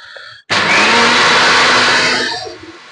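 A kitchen mixer blends home-made orange juice, kicking in abruptly with a loud, steady, high-pitched whir that holds for about two seconds before winding down and stopping.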